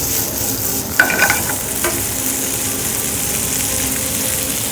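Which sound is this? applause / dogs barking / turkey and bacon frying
turkey and bacon frying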